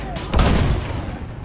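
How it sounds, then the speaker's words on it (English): Machine-gun fire in the World War I shooter Battlefield 1: a brief, loud, booming burst of gunfire close by that tails off quickly. "Enemy machine gun over there!"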